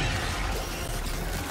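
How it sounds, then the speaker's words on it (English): Weapon reload in Helldivers 2, a dense mechanical clatter of metallic clicks and ratcheting under steady loud game noise, close and brief. "Reloading!"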